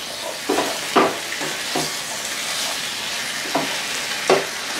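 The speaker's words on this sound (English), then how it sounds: "So whenever I do veggies in a skillet like this, I usually just let them cook for a few minutes" Vegetables sizzle in a skillet on a stovetop burner with a steady frying hiss and a few brief spatters and stirring scrapes, close and moderately loud with no talk.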